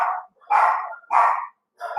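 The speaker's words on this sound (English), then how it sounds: "My dogs are not usually this bad." Dogs bark indoors in four sharp, loud, close-up barks at an irregular rhythm with brief silent gaps between them.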